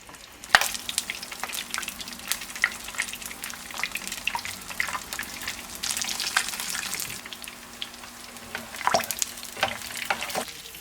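Tuna belly frying in a pan over medium heat, a continuous close sizzle with scattered sharp pops and crackles swelling and easing throughout.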